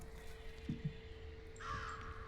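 Crows in the video game Lucius III give two short, low caws close together, then a longer, higher tone follows, all quiet against a faint steady hum.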